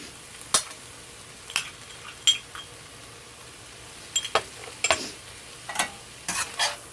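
Vegetables in a wok are stirred as a soy, oyster sauce and sugar mixture is added for shrimp lo mein. Scattered clinks and scrapes of the utensil against the pan sound over a low sizzle, close and alone.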